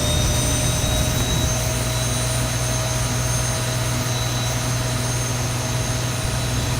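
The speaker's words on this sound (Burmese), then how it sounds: "အခုဆိုညာအင်ဂျင်စလဲနေတာတွေ့ရပါပဲ" A Boeing 737 right jet engine spools up during start in the X-Plane 12 flight simulator, a steady loud whine and rumble with high tonal lines running continuously throughout, with no talking.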